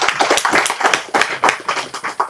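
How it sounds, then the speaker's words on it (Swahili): A crowd applauds at a community water service gathering in Tanzania, honouring the district water manager: dense, steady clapping from many hands, fairly close and lively, with no talk over it. "Tumpigieni makofi mengi sana meneja wetu."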